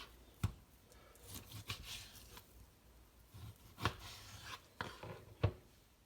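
Knife slicing smoked pork belly into cubes on a board, a series of quiet, sharp cutting thuds at an irregular pace, close and without talk.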